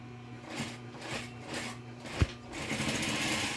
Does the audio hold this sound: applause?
no